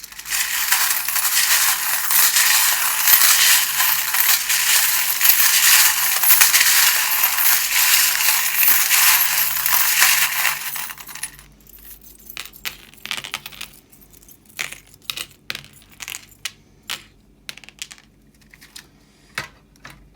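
Charms and dice shuffled by hand for a tarot and charm reading, a loud dense rattling clatter for about ten seconds, then sparse separate clicks and knocks as pieces settle, with no voices.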